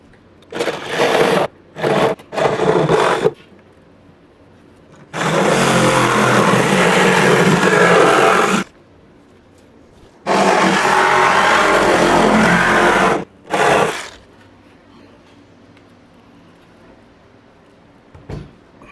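A Sawzall reciprocating saw cuts through a car's rear fender during a fender and inner fender install, sounding in several loud bursts: short choppy strokes at first, then two long sustained cuts, and a final brief one.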